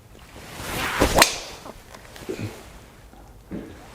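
A single sharp whoosh and crack of a Cobra F9 or Ping G410 golf driver striking a ball, followed by faint rustling and soft footsteps outdoors.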